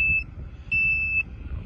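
Two short high-pitched electronic beeps from a GOOLOO GT3000 jump starter, close by, the second one longer, over a low rumbling background.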